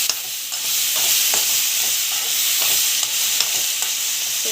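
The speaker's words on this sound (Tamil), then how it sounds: "டொமாட்டோ வந்து ஆட் பண்ணிவிட்டு ஜஸ்ட் வந்து பார்த்திங்கன்னா சிம்மில் கொஞ்ச நேரம் வந்து அப்படியே வந்து வதங்கிட்டோம்." Tomatoes sauté and get stirred in a hot pan on a simmering flame, with a steady sizzle and repeated scraping strokes of a spoon across the pan, close and clear with no talking.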